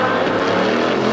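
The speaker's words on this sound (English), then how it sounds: "again, the Whittington March Chevy in pursuit." A March Chevy race car engine roars during the 1984 IMSA Budweiser Grand Prix of Miami, a dense, loud, continuous mechanical drone filling the brief moment with no pauses and no voices.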